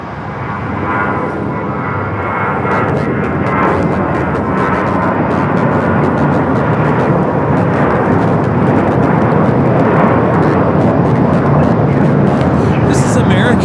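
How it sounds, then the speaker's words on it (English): An American Airlines Airbus A321 takes off from LAX bound for Las Vegas: a loud, sustained engine roar that swells slightly and stays strong to the end, with faint talk and clicks over it. "3243 taking off to Las Vegas on the A321."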